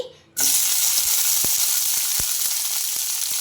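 Green chillies, tomato and lentils hit a hot oiled pan for chutney with a sudden loud sizzle that holds steady and bright, broken by a few soft clinks of a spoon against the pan.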